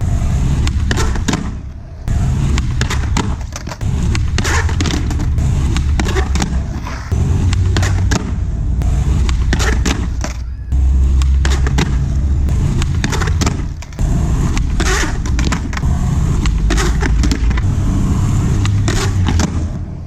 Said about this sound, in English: We're gonna try the board slide 180 a couple more times.